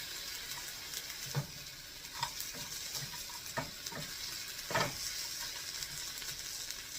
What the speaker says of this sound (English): Let that butter melt. Let all that bacon get warm, and the green beans too.